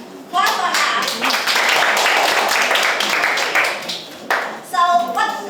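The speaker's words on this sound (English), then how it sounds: "Clap for him." Lower secondary school students in an English class in Vietnam applaud a classmate with a burst of close, dense clapping that lasts about four seconds, then a voice speaks as the clapping dies away.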